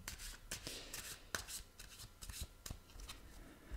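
Cards drawn and handled from a tarot deck during a love reading, giving soft, close papery flicks and rustles in scattered bursts with a few sharper snaps, quiet and without talk.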